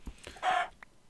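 A chicken in the video game Minecraft gives a single short, faint cluck, a brief bright burst standing alone against quiet game background.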